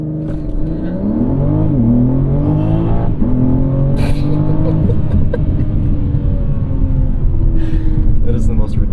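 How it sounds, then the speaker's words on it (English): A 2023 BMW M3 Competition xDrive Edition 50 Jahre, fitted with winter tires on broken asphalt, accelerates hard with a loud, steady rising engine roar close by while people talk over it. "I'm going to do an acceleration."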